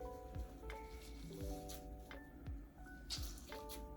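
Wet sphagnum moss squeezed and wrung out by hand, soft squelching squishes and dripping water in repeated bursts, quiet and close over a steady background hum, with no speech.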